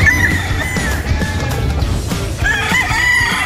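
Gamefowl chickens at a game farm: roosters crow with drawn-out calls amid steady clucking and background flock noise, moderately close and continuous, without any talking.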